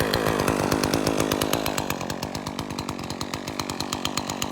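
Chainsaw making a downward cut into wood, a loud close engine buzz with a rapid pulsing chatter that eases in pitch as the cut progresses, no talking.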